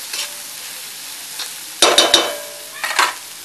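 Stuffed kantola (spiny gourd) bhaji sautéing in a pan: a soft sizzle under a quick cluster of sharp spatula scrapes, then another short burst of stirring, all close and without speech.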